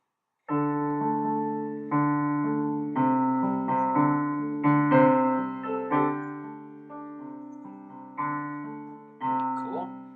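A piano plays a verse riff in struck chords, each ringing out and decaying before the next, at a moderate, unhurried pace.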